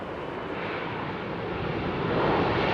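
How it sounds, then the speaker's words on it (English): A WestJet Boeing 787 comes in to land at Heathrow in foggy, rainy weather, heard as a steady broad roar of engine and air noise that builds slightly toward the end, with no voices. "WestJet 787 next to land. And there it is."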